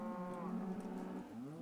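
A cow in a Minecraft cow farm gives a long, clear moo that stands alone, then a second moo begins near the end.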